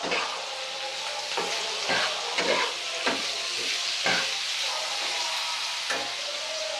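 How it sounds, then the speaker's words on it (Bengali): Aloo posto with a little cumin powder being stirred and fried in a pan, giving a steady close sizzle with repeated scraping strokes of the spatula at an uneven rhythm, and no talk. "এটাকে নাড়ছি, এবার নাড়তে থাকবেন।"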